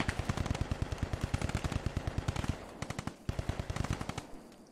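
Small arms fire at an airsoft skirmish event crackles in rapid automatic bursts, dense rhythmic shots loud and nearby, pausing briefly before another volley, with no talking.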